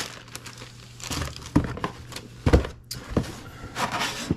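Plastic packaging crinkles and rustles in bursts as a parcel of performance parts for a 1955 Chevy is opened, with sharper crackles and a few handling thumps close by, no voices.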